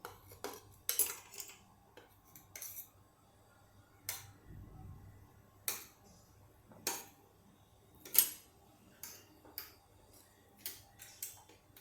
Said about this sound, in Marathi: थोडासा मसाला कालवावा लागेल तो कालवून घेते